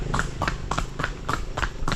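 A horse's hooves clip-clop at a steady even pace outdoors on a sunny day, about seven regular close hoof strikes in a row with no talk over them.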